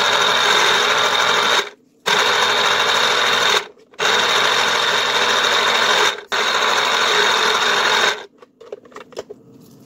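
An electric juicer or blender whirs loudly and steadily while making kiwi and orange juice, running in four bursts separated by brief pauses before switching off and rattling to a stop.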